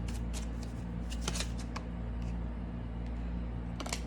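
Tarot cards riffle and slide in repeated quick bursts during shuffling, crisp and near over a steady low hum, with no talking.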